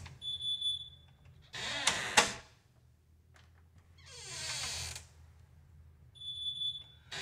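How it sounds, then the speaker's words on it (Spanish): A high electronic chime from an ADT alarm door sensor in a commercial shop beeps as the door opens, followed by rustling and clunking handling noises, then the beeping tone sounds again, faint and indoors. "Ese es el sonido que nos está indicando que la puerta fue abierta"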